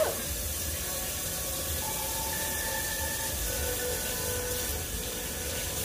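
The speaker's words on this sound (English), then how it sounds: "I love the sound of water." Water runs steadily from a tap while scallops are seared for a seafood pasta, a continuous close hiss and splash with no talk.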